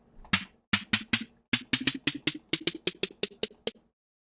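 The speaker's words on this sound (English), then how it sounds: "Next sound we can get is a snare drum, which is made by sand, gravel, or any type of concrete powder" Minecraft note block snare drum from sand or gravel, about fourteen short crisp hits in a quick uneven run that speeds up, ending in silence, with no talking.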